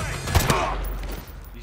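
A single suppressed gunshot in Call of Duty Modern Warfare 2 Remastered, a sharp crack with a brief follow-up report, then low ambient rumble and game soundscape fading out.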